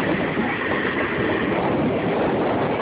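Circus train rolling along a former main line, a continuous loud rumble of wheels and cars on the rails with wind buffeting, steady and unbroken from start to finish.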